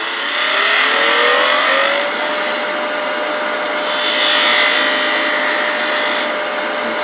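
Detail spindle gouge with a shallow flute cutting a cove behind the nose of a small turned piggy on a wood lathe, a steady loud whirring hiss with a whining motor tone, swelling twice as the tool bites, no talk.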